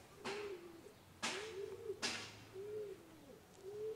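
Soft, close cooing from Spanish pouter pigeons (palomos) repeats in a steady rhythm of low, rounded coos, each opened by a brief rustle, with no talking over it.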